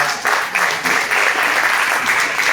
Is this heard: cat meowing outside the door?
no